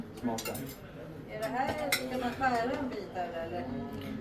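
Dishes and cutlery clink as food is served at a Christmas dinner in a Swedish family home, light scraping and clinking scattered under steady, overlapping conversation.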